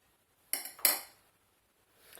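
A metal spoon clinks twice against a bowl in quick succession while maple syrup is added, sharp and close, followed by a faint scrape after a short quiet gap.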